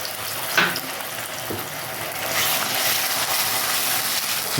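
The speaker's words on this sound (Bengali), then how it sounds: "তেলটা গরম হয়ে গেছে আমি বাটা মশলাটা দিয়ে দিলাম" Ground spice paste frying in hot mustard oil for a potol kasundi, a steady broadband sizzle with a brief sharp spatter near the start and the hiss swelling louder in the second half, close and without talk.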